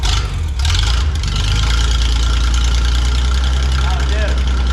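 A straight-six car engine cranks and catches after a brief moment, then settles into a steady, loud, low idle rumble that continues to the end.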